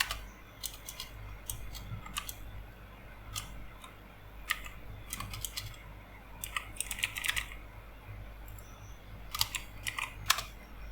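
Keys clatter on a computer keyboard as a prompt is typed, irregular quick clicks in short bursts over a steady low hum, close and fairly quiet.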